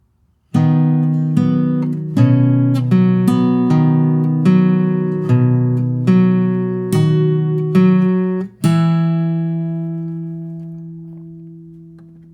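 Acoustic guitar plays Happy Birthday fingerstyle with Travis picking, clear plucked notes over an alternating bass in a steady rhythm, ending on a ringing chord that fades out, solo with no voices.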